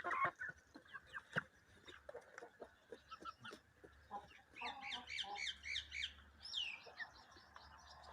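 Young rooster chicks being raised cheep and chirp in a busy, overlapping chorus, with a few louder clucks and fowl calls near the start and bright trilling peeps clustering toward the end.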